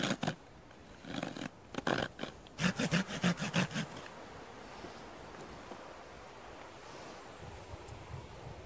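A hand saw rasps through wood while shaping a wooden fork, in a burst of quick back-and-forth strokes, close and loud, then stops, leaving a steady low background hiss.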